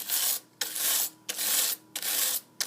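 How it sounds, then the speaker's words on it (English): A wire brush scrubs the spot welds on the plastic pull-start fan of a Troy-Bilt 6044XP string trimmer in four close, loud, rasping strokes, each about half a second long, separated by brief pauses. "I'm going to hit it with a wire brush here just for a little cleanup."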